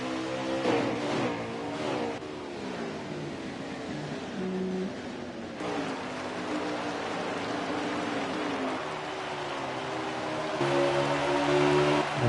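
Race cars in a video game contest the Richmond oval in an A.I.R League playoff race, a continuous layered engine drone with shifting pitches as several cars run close together three wide, steady and fairly loud throughout.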